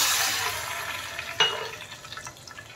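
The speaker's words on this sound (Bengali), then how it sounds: "এবারে এর মধ্যে আমি দিয়ে দিচ্ছি 1 কাপ মতো জল" A cup of water hits a hot pan of tempering with a sudden hiss and splash, which fades into a softer gurgling simmer over low gas.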